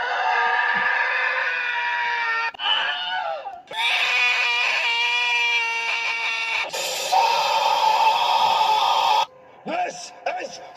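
Screams added over a movie scene, loud and drawn-out, in several long sustained stretches broken by short gaps, with a wailing, cry-like quality.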